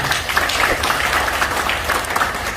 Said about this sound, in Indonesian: Tepuk tangan untuk komunitas ini.